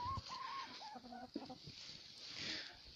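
Chickens on a natural free-range poultry farm in winter cluck in short, close bursts as they peck at feed, with soft outdoor noise behind them and no talking.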